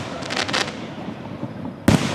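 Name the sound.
4th of July fireworks exploding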